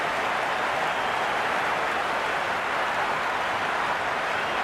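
A cricket video game crowd in a Sydney Thunder versus Hobart Hurricanes Big Bash match roars in a steady, dense wash of cheering and applause, loud and unbroken throughout.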